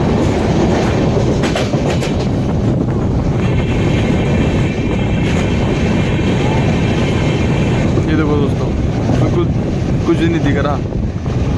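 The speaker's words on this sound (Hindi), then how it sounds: "दोस्तों हमारा डिपार्चर हो चुका है जम्मू तवी स्टेशन से।" Train pulling out of Jammu Tawi station in thick fog, a steady loud rumble of wheels on rails with wind noise throughout and faint rhythmic clatter, no speech.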